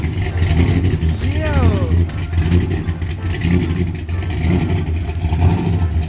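A Porsche 911 GT2 RS twin-turbo engine rumbles loud and steady throughout, its deep idle slightly rising and falling. A voice speaks briefly over it partway through.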